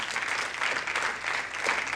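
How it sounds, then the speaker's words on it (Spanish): Church congregation applauding in praise, a thick sustained wash of clapping that swells and dips slightly, steady and loud with no talk over it. "Dale fuerte el aplauso al Señor."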